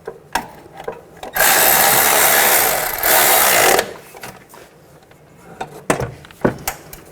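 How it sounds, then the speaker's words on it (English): A power tool runs on an engine mount nut of a Chevy Traverse, a loud sustained whir lasting a couple of seconds, framed by scattered clanks and taps of tools and metal parts before and after. "now I'll put this nut on top and tighten it down"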